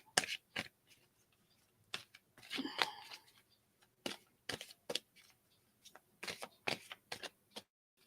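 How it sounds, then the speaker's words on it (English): Crisp riffles and snaps of playing cards being shuffled, in quick separate bursts with short pauses, close and quiet. "A good shuffle."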